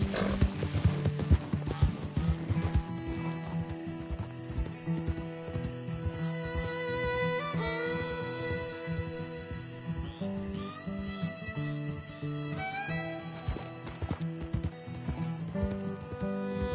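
Hooves clip-clopping as a horse is ridden in Red Dead Redemption 2, a rapid rhythmic patter of steps beneath a loud musical score.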